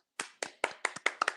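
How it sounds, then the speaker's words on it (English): Six or seven sharp hand claps in a quick, slightly uneven rhythm, close and fairly quiet, with no voices. "So let's applaud Atlanta"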